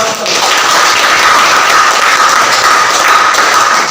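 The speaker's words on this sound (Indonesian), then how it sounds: "Oke, kita berikan aplaus." Classroom audience applause in a school teaching session, a steady dense wash of clapping held at even loudness for a few seconds with no talk.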